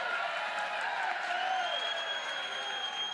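A home crowd at a Davis Diamond softball game between Mississippi State and Texas A&M reacts with a steady wash of distant murmuring and scattered calls, continuous and moderately faint.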